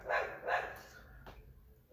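Dog barking nearby, two or three sharp barks in quick succession early on, then a fainter one trailing off, with no talk.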